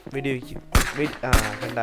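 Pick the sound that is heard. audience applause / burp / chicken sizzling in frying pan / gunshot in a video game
gunshot in a video game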